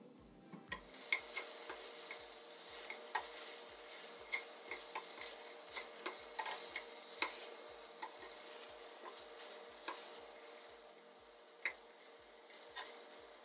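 Chickpeas fry in a small pan, a quiet, steady sizzle broken by regular soft ticking pops and stirring clicks about twice a second, close up and without voices.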